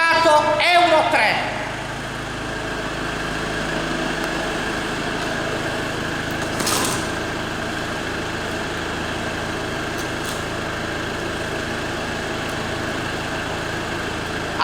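Fiat Ducato Euro 3 van engine running steadily at idle near the exhaust pipe, a constant mid-pitched drone with a brief clatter at the start and faint background noise throughout.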